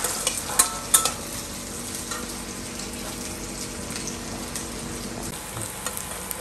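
Chopped onions fry in oil with a nigella seed tempering, giving a steady close sizzle with spatula scrapes and stirring clatter, sharpest near the start.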